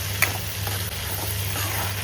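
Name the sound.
silkworm pupae being stir-fried with onions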